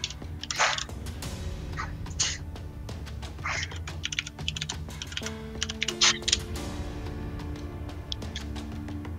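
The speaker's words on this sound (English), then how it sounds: "Or I can hear Tyson typing." Someone taps away at a computer keyboard in bursts of quick, uneven keystrokes, close to the microphone, with a few louder clacks and a faint background hum.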